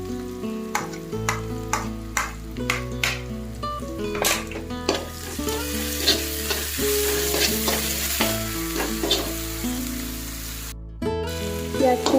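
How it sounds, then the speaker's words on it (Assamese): Onions frying in oil in a pan for a pork dish with elephant apple, with a steady loud sizzle and repeated stirring scrapes and clinks of a utensil against the pan, no talking. "পিঁয়াজখিনি অলপ অলপ ভজা হৈছে, ব্ৰাউন কালাৰ হৈছে পিঁয়াজখিনি।"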